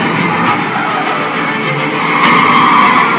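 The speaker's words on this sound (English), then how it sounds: "There's that big-time drifting scene that threatened a lot of lives" A Mazda RX-7 drifts in a Fast and Furious film, with loud continuous tyre squeal and engine roar that swell near the end, dense and close with no talk.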